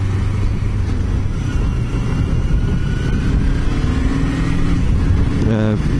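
A motorcycle rides along a road, with a constant roar of engine and wind noise throughout and a brief rising rev near the end.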